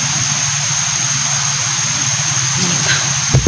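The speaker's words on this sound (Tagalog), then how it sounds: "May motor na umandar." A motor engine runs steadily with a loud, even drone and a constant high whine for several seconds. A short knock comes near the end. No one speaks.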